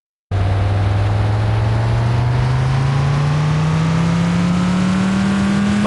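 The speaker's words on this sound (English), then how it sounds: "Gentlemen, start your engines." A City Racing 3D car engine revs up loudly and close, its pitch climbing steadily in one long rising whine after a brief silence.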